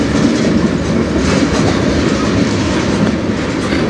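A CN freight train with hopper cars rolls past close by, a loud, continuous rumble with rhythmic clickety-clack of wheels over rail joints throughout.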